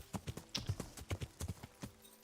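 Horse hooves clip-clop in a quick, steady rhythm of sharp, close thuds in the video game Kingdom Come Deliverance, a dozen or more even beats with no talking.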